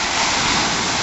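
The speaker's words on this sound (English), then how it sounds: "Oh, look at those waves." Cold ocean surf breaks and washes along a beach as a loud, steady, broadband rush with some wind buffeting on the microphone, with no talking.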